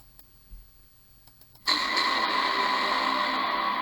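After a quiet click-filled lead-in, the Inception button effect erupts into a loud, sustained, brassy blare that holds steady to the end.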